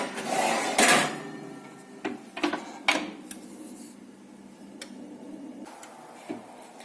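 An oven door swings shut after a tray of kale chips goes back in to bake, giving a sharp close thump followed by a few lighter clicks and knocks in an otherwise quiet kitchen.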